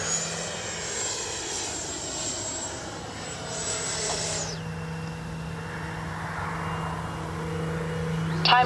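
A Freewing F9F Cougar RC jet flies past at about half throttle, its ducted-fan whine rising loud then dropping in pitch as it recedes into a steadier distant drone.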